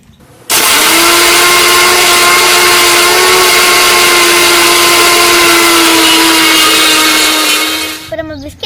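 A kitchen mixer grinder pulverises broken Bourbon biscuits, starting abruptly with a loud, steady high whine that holds for about seven seconds before winding down, close and alone.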